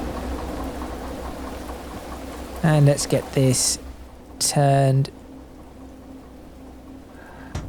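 Steady rain falls in the Derail Valley train simulator, a constant soft hiss continuing beneath someone talking.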